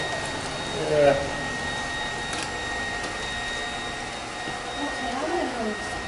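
A Deebot D35 robotic vacuum cleaner runs with a steady mechanical whir and hum, heard close by under people talking.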